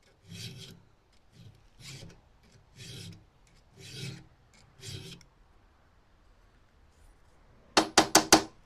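A Stihl chainsaw chain clamped in a vise is filed by hand, with regular rasping strokes in an even rhythm, close and clear, followed by a few sharp knocks at the end.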